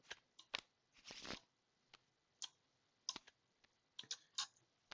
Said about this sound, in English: Pillars of Creation draws it, and we shuffle our bottom 5